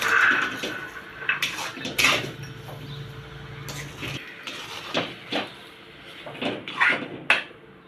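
A lid clinks onto a cooking pan of suji halwa, a few sharp metallic knocks and rattles over a brief low hum from the kitchen.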